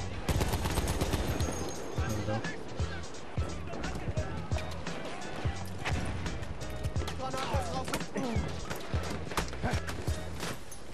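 Battlefield 1 gunfire, rapid bursts and scattered shots crackling densely throughout amid battle noise, with a voice talking over the shooting.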